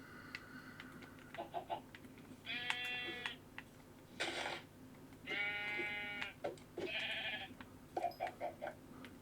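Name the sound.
sheep bleating in the video game Minecraft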